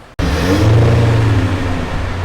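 A Porsche Cayenne 3.0L engine with a new dual-tip rear exhaust revs hard after a brief pause, a deep throaty exhaust roar that swells and holds, then eases slightly at the end.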